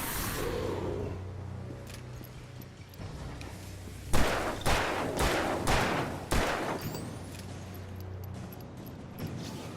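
Several loud gunshot bursts fire in quick succession around the middle of a combat scene in the video game Alan Wake Remastered, set against steady game ambience and a low background drone, with no talk.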